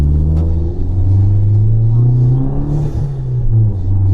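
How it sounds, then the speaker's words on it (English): A Fiat 500 Abarth's engine revs through a resonator-fitted exhaust with a deep, bassy rumble, loud and close, pitch rising and dipping as the throttle changes. "the Resonator brought the sound down a little bit, actually quite a lot, and also gave a deeper sound to the car"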